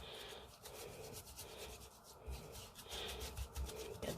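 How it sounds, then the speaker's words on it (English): Makeup brushes are scrubbed with Zote laundry soap, giving a faint, steady, wet rubbing and scratching texture that continues without pause. "Scrub, scrub, scrub."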